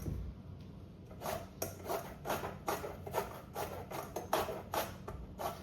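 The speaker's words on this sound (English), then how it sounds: "zesting these limes directly into the bowl" Limes are zested directly into a bowl, producing faint, quick scraping rasps in a rapid, uneven rhythm, quiet and close with no speech.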